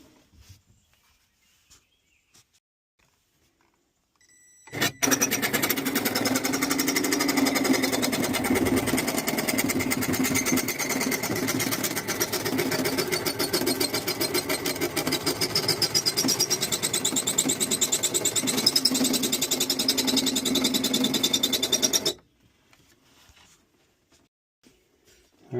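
A power cutting tool trims an opening for a 12-volt refrigerator in the wall of a Scamp Lite camper, running as a loud, steady buzzing whine for about seventeen seconds before stopping abruptly, with near-silence before and after.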